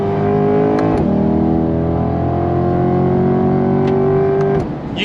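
Close, loud C8 Corvette Stingray 70th Anniversary Edition pushrod V8 accelerating hard, its steady rising engine note broken by two quick upshifts, with no talking over it.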